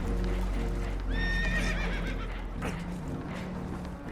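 Spooked horses neigh in Red Dead Redemption 2 aboard a boat taking on water, one sharp, shrill whinny rising midway over a rumbling, noisy background with hoof clatter.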